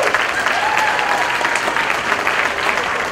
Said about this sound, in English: A round of applause for the bridesmaids,